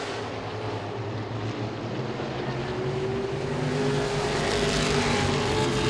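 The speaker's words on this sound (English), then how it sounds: "Cameron Patrick making his way around the racetrack" Engines roar continuously as Modified race cars speed around Langley Speedway, the drone steady and slightly rising, heard from a distance with no talk.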